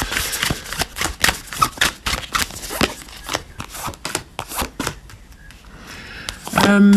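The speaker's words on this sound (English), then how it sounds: "let's shuffle these up and then pull 3 piles" Tarot cards being shuffled by hand during a card reading, a rapid run of crisp riffling snaps repeated over several seconds, fairly close and with no talking.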